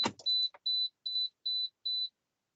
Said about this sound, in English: This thing's gonna keep beeping at me.